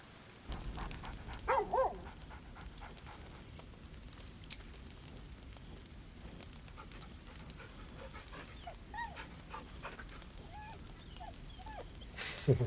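Pet dog in a fantasy role-playing video game reacting to being petted, giving a few soft whimpers and yips early on, then quieter panting and small whines over low ambient game sound.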